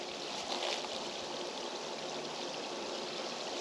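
Steady stream of water pouring from a Gasland G3 Pro GoShower portable tankless water heater shower, running at about 0.8 gallons per minute; a constant, close, hissing flow with no talk.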